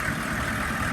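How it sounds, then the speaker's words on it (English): The engine of a 2002 Chevy 3500 utility truck idles at close range, giving a steady, loud, even rumble with no voices. "Engine sounds good."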